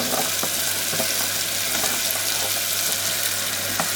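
Brinjal and potato pieces for a tamarind curry fry in hot oil in a pan, a steady close sizzle throughout with a few soft stirring scrapes and no talking.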